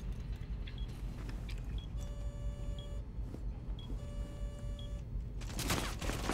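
Gunfire in Rainbow Six Siege, scattered muffled shots heard at a distance beneath a steady low rumble and beeping electronic tones, ending with a louder burst near the end.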